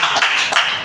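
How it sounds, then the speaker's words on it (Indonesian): Short burst of dense applause from a comedy audience at a stand-up show, steady and close, lasting under a second with no speech over it. "tepuk tangan teman-teman"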